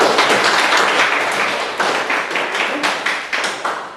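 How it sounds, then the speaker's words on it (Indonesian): A classroom group claps in a brief round of applause, a dense burst of hand claps that thins out and fades over a few seconds. "Kita beri tepuk tangan."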